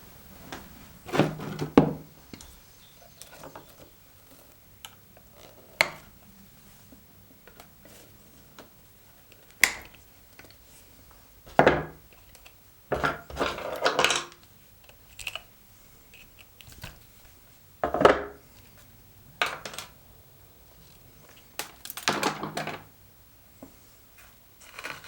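Repotting a Yamadori olive bonsai: scattered sharp knocks, taps and scraping clicks of the tree and soil being worked loose from its pot, close and irregular with quiet gaps between.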